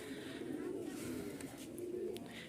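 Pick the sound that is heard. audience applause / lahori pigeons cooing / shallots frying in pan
lahori pigeons cooing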